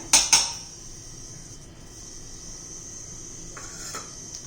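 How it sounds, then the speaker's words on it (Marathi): Roasted sesame seeds are tipped into a steel mixer jar, two quick close metallic clinks and a pour, then a quiet pause and a faint scrape near the end. "मिक्सरच्या भांड्यात तीळ घालून घेऊया"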